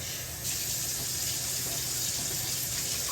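Water runs steadily from a kitchen faucet, a continuous close hiss and splash that grows slightly stronger after a moment and holds even, with no voices.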